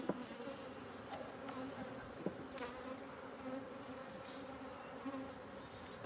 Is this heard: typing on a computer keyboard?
no